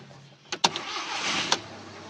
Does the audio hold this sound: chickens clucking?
no